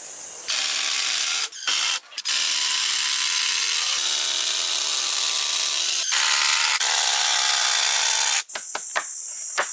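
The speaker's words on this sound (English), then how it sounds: "I cut large plywood boards to size and laid them over the frame, securing them firmly to the beams with numerous screws." A power drill drives screws through plywood floor boards into the beams of a traditional wooden cabin's floor frame, whirring loudly and continuously, with brief pauses and short ratcheting bursts near the end.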